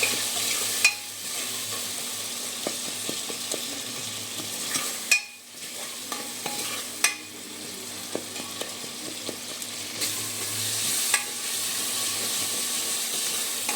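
A spoon stirs a cooking tomato mixture with turmeric and salt in a pan, giving a continuous soft sizzle broken by occasional sharp scrapes and clicks against the pan.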